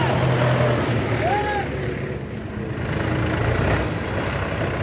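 A Mahindra 265 tractor engine pulling a loaded trolley, a steady loud diesel drone heard close throughout, with a slight dip in level partway through.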